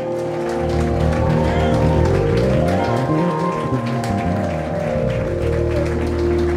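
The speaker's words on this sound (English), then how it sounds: "show some love, big round of applause" An audience applauds and cheers to welcome a musician at a New Orleans music performance, with loud, dense, continuous clapping mixed with crowd noise and held musical tones, while voices carry on over it.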